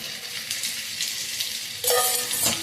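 A spoon stirs bitter gourd curry with chilli powder in a hot pan, scraping and sizzling close up, louder as the mix is turned near the end.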